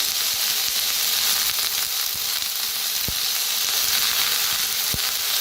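Chopped mixed vegetables, including carrot and potato, roast in a pan over a village wood-fired stove, with a steady, close hiss and two brief knocks partway through.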